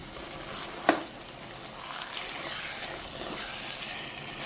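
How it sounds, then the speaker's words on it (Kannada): Mango chutney being stirred in a pan, a soft continuous scraping and gentle sizzle with one sharp knock of the spoon, fairly quiet and steady with no voices. "ಈಗ ಇದನ್ನು ಚೆನ್ನಾಗಿ ಮಿಕ್ಸ್ ಮಾಡಿಕೊಳ್ಬೇಕು."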